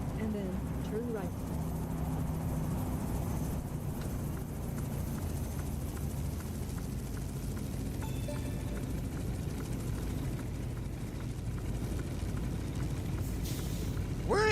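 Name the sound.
helicopter flying, from the video game American Truck Simulator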